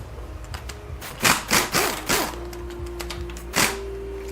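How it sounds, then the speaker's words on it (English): An air impact wrench rattles in several short bursts while working fasteners on a Ford 5R110W TorqShift transmission during teardown, with a steady compressor-like hum running beneath and a final burst near the end. "I think I'm going to use the air impact wrench for this."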